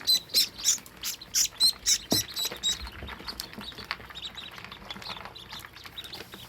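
Call ducklings peep in a cardboard shipping box lined with a hay mat, a quick run of high, rhythmic chirps up close at first, then softer scattered peeping with faint rustling.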